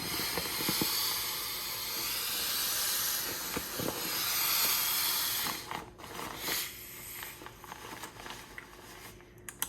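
Air hisses steadily out of a camp pillow as its deflation button is pressed, a broad continuous rush that later breaks into uneven bursts and rustles as the pillow is squeezed.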